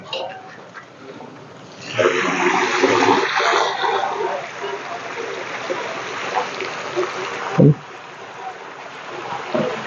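Water gushing out of a 3,500-litre water tanker lorry, a steady loud rushing pour that starts abruptly and keeps going, with a brief thump partway through.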